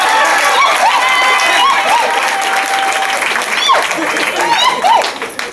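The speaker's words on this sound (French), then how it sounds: "qu'on applaudisse pour les s'il vous plaît" Sustained loud applause from a large wedding crowd, dense and continuous, with excited shouts and whistles rising through it.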